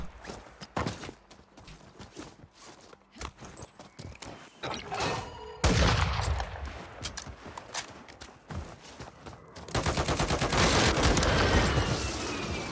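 Gunfire from a weapon in Warzone 3, with scattered sharp shots early on, then dense, loud bursts of automatic fire from about six seconds and again near the end, mixed with footsteps and game noise.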